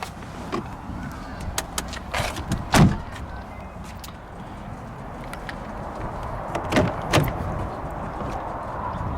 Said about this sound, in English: Open up the back seat of the Wrangler.